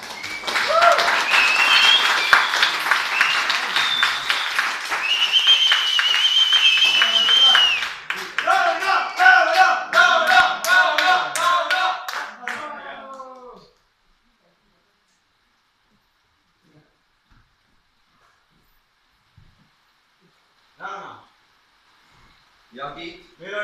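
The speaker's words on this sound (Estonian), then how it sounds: "teeme suure aplausi ja vilistame" Loud applause and whistling from a crowd at a political party's summer days gathering, running for over ten seconds with shrill whistles over the clapping, then dropping to near silence broken by brief bursts of talk.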